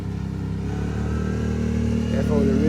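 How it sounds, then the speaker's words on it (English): A dirt bike and a Kawasaki Brute Force ATV pass slowly outdoors, a steady low engine drone that swells slightly as they go by. "That's the dirt bike. It's the Brute Force. I don't know how he riding it so slow."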